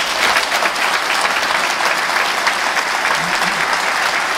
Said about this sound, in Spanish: Fuerte, fuertes aplausos para el doctor Mauricio Carrió